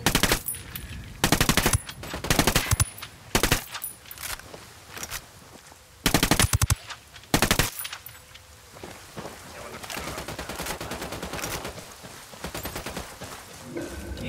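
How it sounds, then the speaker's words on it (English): Machine gun fire in the tactical shooter Ghost Recon Wildlands crackles in several sharp bursts of rapid shots, loud and close, with quieter ambient game noise continuing after the firing stops. "Opening fire."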